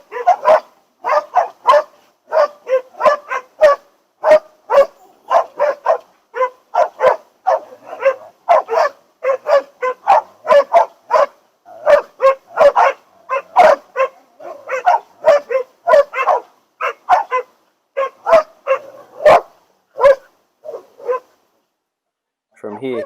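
Hunting dogs bark in rapid, steady bursts during pig hunting training, with yips and whimpers mixed in, loud and close, running almost without pause before stopping near the end.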